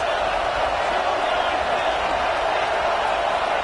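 Football stadium crowd roaring as a steady, dense wall of noise, loud and unbroken throughout, with no clear individual voices.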